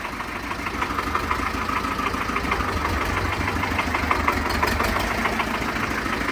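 A Swaraj tractor's engine idles steadily throughout, a continuous low rumble with a faint rhythmic knock, close by and even in loudness.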